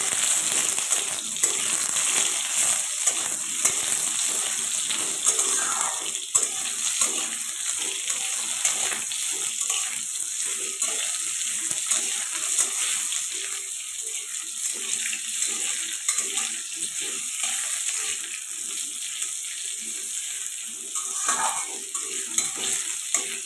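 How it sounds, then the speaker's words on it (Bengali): Green mango pieces frying in a pan for tok dal give a steady, close sizzle for a long stretch, broken by occasional stirring scrapes. "এর মধ্যে আমি আমটা দিয়ে দেবো, দিয়ে একটু ভাজা ভাজা করে নিতে হবে।"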